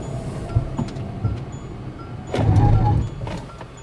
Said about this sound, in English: I'm going to pull over to the shoulder and then I'm going to stomp on the brakes.